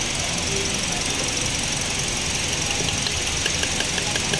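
A Toyota Vios engine idles roughly with misfires, a loud, steady close-up engine drone with an uneven knocking pulse throughout.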